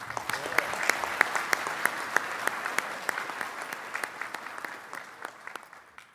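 An audience at a land forces conference gives a round of applause for an army general, with a few crisp individual claps standing out over a steady wash of clapping that fades toward the end.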